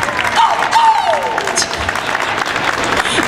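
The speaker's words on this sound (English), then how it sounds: "clap now if you think that counts" Audience clapping at a live stage event with rodeo athletes and fan giveaways, a crowd's applause rising and holding, mixed with voices and a few whistle-like sweeps overhead.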